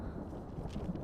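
Low, distant thunder rumbles steadily just before rain, a continuous muffled roll without voices.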